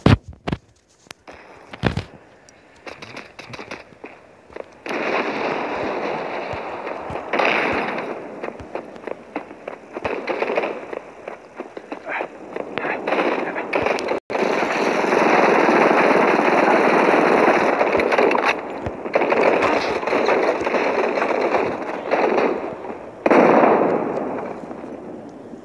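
Repeated bursts of explosions and gunfire from grenade-style bombs thrown and detonating in the mobile shooter Modern Combat 5, dense and loud throughout with scattered sharp pops.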